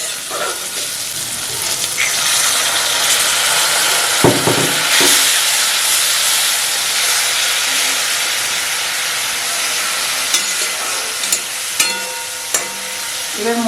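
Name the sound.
water added to hot frying masala, hissing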